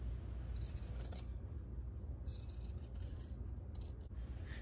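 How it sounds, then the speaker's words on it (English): Scissors snip through a fabric seam allowance to trim it down, giving a few quiet crisp cuts close by over a steady low hum, with no talking. "here I'm going to trim the seam down a little bit to make it less bulky"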